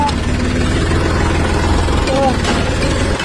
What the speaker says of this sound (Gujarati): ઘાસ વાડી કાઢ્યું હોય એટલે ટ્રેક્ટર ચાલુ કરીને જઈએ.